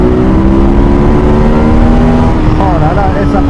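Engine of a 2021 Ducati Monster motorcycle revs loud and close, its pitch climbing steadily before a quick blip near the end, with a voice briefly talking over it.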